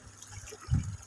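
A short, soft pour of dipping sauce, a quiet trickle swelling briefly near the end.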